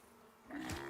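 Bees buzzing in the survival video game Icarus, a faint hum that swells louder midway and holds steady to the end, with no talk.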